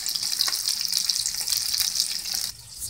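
Chopped onions fry in a pan, giving a steady close hiss of sizzling that runs evenly and then drops to a quieter simmer near the end.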